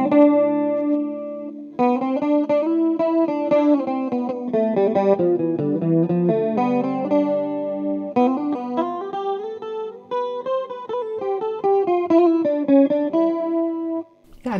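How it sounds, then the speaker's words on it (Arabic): Electric guitar played through an H8 headphone amp with a slight chorus effect and little reverb or echo, ringing out a clean, close melodic line of picked notes and chords on its own, fairly loud and steady. "يعني هو صوت ما فيهوش ريفيرب كتير ولا فيه إيكو كتير، فيه بس شوية كورس."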